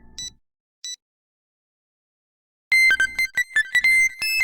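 Electronic phone ringtone from the game Nurse Love Syndrome: two short beeps, a pause, then a loud burst of bright repeating melodic tones ringing again.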